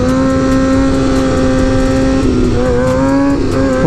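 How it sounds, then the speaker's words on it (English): A motorcycle engine revs hard during a wheelie, a loud close sustained drone whose pitch holds, then wavers and climbs as the throttle shifts, with strong wind rush and no talk. "A little bit of wheelie action for you,"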